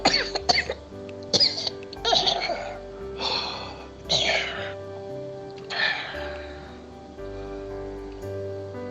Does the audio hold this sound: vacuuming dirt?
no